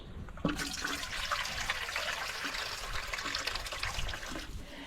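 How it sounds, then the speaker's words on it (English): Fresh water pours and trickles steadily into a farm animal's water container during winter morning chores, a continuous splashing stream heard close up. "Give you some fresh water."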